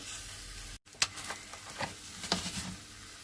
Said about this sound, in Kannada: ಈಗ ಎಣ್ಣೆ ಹಾಕ್ಕೊಂಡು ಹುರ್ಕೊಳ್ತಾ ಇದ್ದೀನಿ